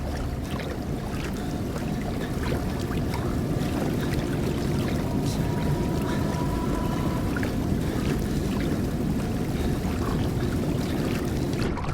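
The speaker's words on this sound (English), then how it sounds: "I gotta see what happens if I go in the water." Continuous sloshing and trickling water as a character wades in during the horror game Outlast 2, a steady even wash throughout with no voices.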